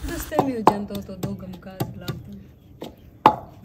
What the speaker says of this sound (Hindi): मम्मी अभी कुंडी गोटे से चनों को कूट रही है चटनी बनाने के लिए